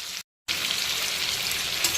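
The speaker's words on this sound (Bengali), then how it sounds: "চিংড়িগুলো কিন্তু এখন হালকা ভাজা হয়ে গেছে, এর থেকে কড়া কিন্তু ভাজবো না।" Prawns frying lightly in hot oil, a steady, close, dense sizzle broken by a brief dead gap near the start, with no voices.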